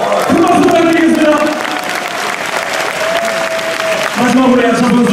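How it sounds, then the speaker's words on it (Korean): Loud, steady applause from a crowd at a combat sports event announcing a middleweight title match fills the whole stretch, with music and a voice rising over the clapping. "큰 박수 부탁드리겠습니다."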